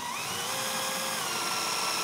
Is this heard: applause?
no